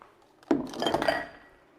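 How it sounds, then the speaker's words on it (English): A ceramic dish set down into a soapy kitchen sink after making a pizza pasta bake, giving one sharp clink followed by a brief burst of splashing and clattering that fades within about a second. "Let's put this in my soapy sink."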